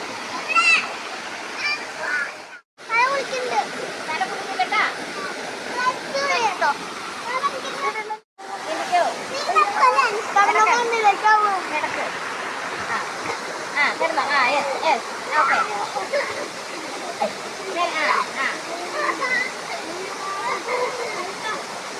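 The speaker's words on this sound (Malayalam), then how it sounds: "ഇതാണ് നമ്മുടെ വെള്ളച്ചാട്ടം." Rushing waterfall roar fills the background while children and adults talk and call out excitedly over it almost the whole time.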